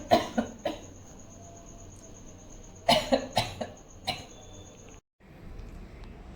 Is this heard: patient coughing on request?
yes